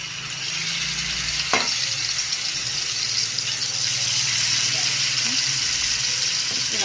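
Marinated fish pieces, three at a time, sizzle and fry in a pan over high flame, a steady broadband crackle running throughout with a brief sharp clatter near the start.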